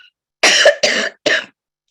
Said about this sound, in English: Let me cough.